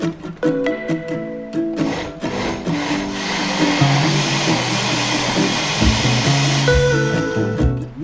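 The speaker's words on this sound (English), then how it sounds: "The blender will finish it off for us." A kitchen blender whirs loudly, chopping raw ingredients for pork in green chili sauce, its motor pitch shifting and straining as the load changes, with no talk over it.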